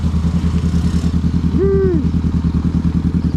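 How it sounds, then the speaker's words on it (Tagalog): A Honda Rebel 500 cruiser motorcycle engine idles with a steady low thumping pulse, close and loud, with a brief rising whine in the middle. "So ang gamit natin motor ay ito Honda Rebel 500"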